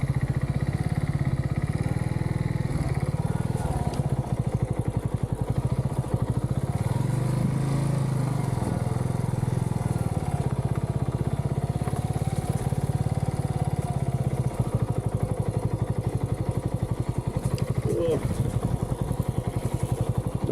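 A small motorbike rides through bushland on a crisp morning at Mt Cotton, its engine droning steadily and close with a rough mid-pitched buzz and some clatter, with occasional talk over it.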